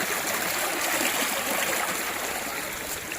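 Water from a natural spring flowing steadily nearby, a continuous broadband rush and trickle with no speech over it.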